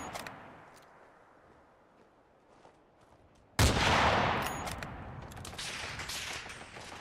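Gunfire in Fallout 4 erupts suddenly after a quiet stretch, a loud dense burst of shots aimed at turrets that keeps rattling and echoing for several seconds.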